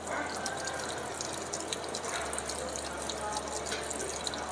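Water flushing steadily out of a car's cooling system during a coolant change, a continuous close splashing and trickling stream with faint drips.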